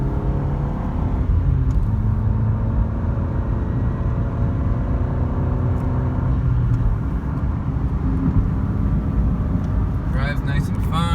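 A 1997 Honda Civic hatchback with its original D16Y7 engine, a 5-speed and a failing head gasket accelerates while driving, its steady engine drone rising in pitch as someone talks over it.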